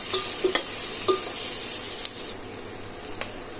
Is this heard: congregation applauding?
no